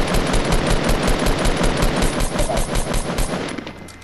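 Rapid automatic gunfire rattles steadily in the Fortnite Battle Royale video game, a dense, loud stream of shots that continues for several seconds before trailing off at the end.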